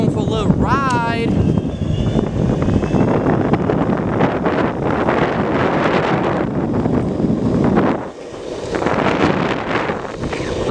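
Heavy wind buffeting the microphone while riding a Boosted electric skateboard outdoors, a loud, continuous roar that dips briefly partway through, with a brief voice near the start.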